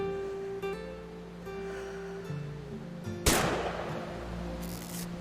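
A single loud hunting-rifle shot in What Remains of Edith Finch rings out once over a steady outdoor ambience with soft music, followed by a fading echo.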